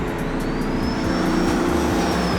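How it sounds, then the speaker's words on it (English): A built N54 BMW 335i pulls hard with a loud engine roar and a rising turbo whine on top, steady and close for a couple of seconds. "That turbo is just ridiculous how loud it is."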